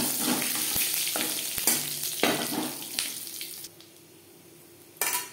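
Panch phoron, a five-spice mix, sizzles and crackles loudly in fresh oil in a kadai after potatoes and soybean were fried, with stirring clatters breaking through before the frying settles briefly and flares again.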